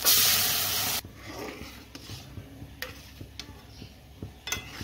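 A loud burst of sizzling hiss as boiled pigeon pea lentils hit hot oil with fried spices, dropping after a second to quiet stirring with occasional utensil clinks.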